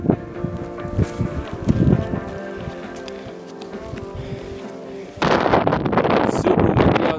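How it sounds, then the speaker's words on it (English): Strong wind blows across a mountain lookout trail in New Mexico, buffeting the microphone in low rumbling gusts, then turns to a louder, continuous roar in the last couple of seconds. "Super windy outside. Don't know if you'll be able to hear."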